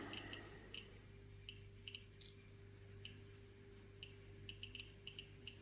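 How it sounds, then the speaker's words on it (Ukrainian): A Geiger counter sits near three small radioactive check-source pellets, giving sparse, irregular, sharp clicks that are faint and close over a quiet low hum. "При трьох гранулках чуєте вже клацання. Частота клацання збільшилась."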